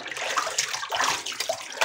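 Cold water splashing from cupped hands onto a face between shaving passes, a run of wet, uneven splashes and trickles, close and fairly loud, with no speech.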